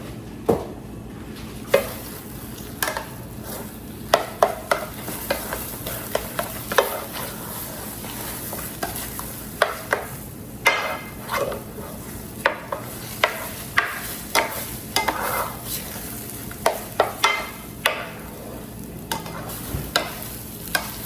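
Eggs cooking in a pan with a soft continuous sizzle, punctuated by a regular series of sharp spatula scrapes and taps as they are stirred, nearby and fairly quiet.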